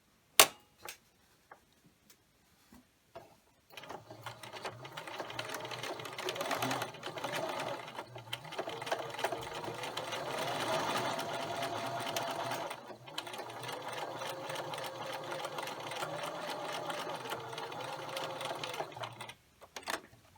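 A sewing machine stitches the folded half-inch hem of a cloth napkin, a rapid, even mechanical whirring that runs for about fifteen seconds after a few soft clicks of handling at the start, close and without talk.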